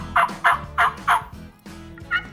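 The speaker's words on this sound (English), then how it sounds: "The birds are gobbling." Several wild turkeys gobble in a quick series of loud, near calls, about four gobbles in a row, a short pause, then two more.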